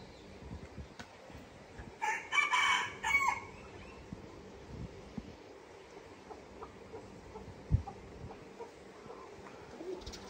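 A rooster crows loudly and close by in one burst of calls early on at a farm in Malaysia, with fainter bird sounds and clucks scattered through the quieter background afterwards.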